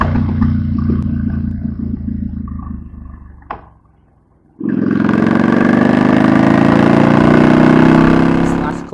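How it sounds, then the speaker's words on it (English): A motorcycle engine idles unevenly, dips briefly to near quiet, then revs up hard into a loud, sustained, rising roar close by. No one speaks. "I like to rev at him"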